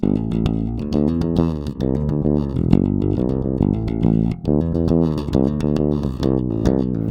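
A distorted bass guitar riff played alone, a steady repeating rhythmic pattern with thick, fuzzy low tones.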